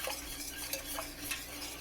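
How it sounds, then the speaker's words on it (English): Utensil scraping and stirring in a pot of gluten-free, nightshade-free enchilada sauce warming toward a boil, a steady soft swishing with faint clinks, close and fairly quiet, no talking. "So we just keep stirring."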